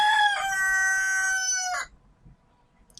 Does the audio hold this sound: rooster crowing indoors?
yes